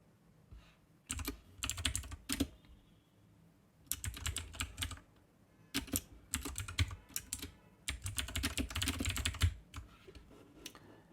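Someone types on a computer keyboard in close, rapid bursts of clicking keys separated by short pauses.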